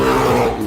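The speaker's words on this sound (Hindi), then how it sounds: "भूरा भालू गुस्से में दहाड़ता है।" An angry brown bear lets out one short, loud, deep roar with a rough, growling, harmonic tone that cuts off abruptly.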